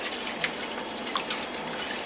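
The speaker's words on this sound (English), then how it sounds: "I'm just going to use my whisk and whisk this around." A whisk stirs liquid and sausage in a pan, making a soft continuous sloshing with faint clicks against the side, close up and unaccompanied by voices.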